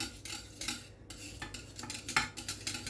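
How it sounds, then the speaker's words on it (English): Sauce for lasagne mixed in a pan with a small palette knife, giving a string of close, soft scraping and clinking strokes in an uneven rhythm, with no talking. "So I've got a little palette knife. You could use a spoon. Okay, so mix that in"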